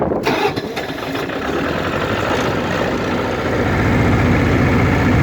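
A MEP-803A 10kW diesel generator cranks with a few brief clattering turns, then catches and settles into a steady, loud, close diesel running rumble that builds slightly, with no talking.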